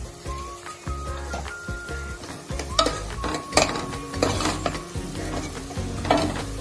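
Onions sizzle in a hot pan while turmeric powder is stirred in, with steady frying hiss and repeated scraping and clinking of a spoon against the pan, fairly close and loud, with no talk.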